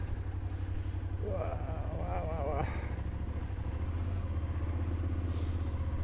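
An off-road motorcycle engine drones steadily and loudly throughout as it pulls away, while a man cries out excitedly several times over it.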